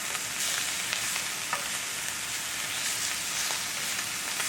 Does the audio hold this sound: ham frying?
yes